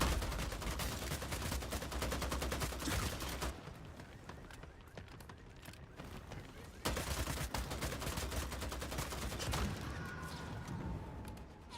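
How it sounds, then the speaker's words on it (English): Rapid bursts of gunfire from the vampire battle-royale video game Bloodhunt, dense and sustained, easing into a quieter stretch mid-way before heavy shooting resumes. "What was that shooting?"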